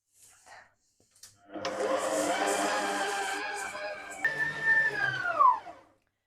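Electric hand mixer beating butter for a lemon drizzle cake, switching on with a rising whir that runs steadily for several seconds, shifts pitch partway, then whines higher before cutting off, heard close and alone.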